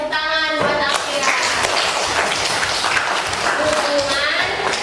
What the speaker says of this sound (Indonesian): tepuk tangan buat Akira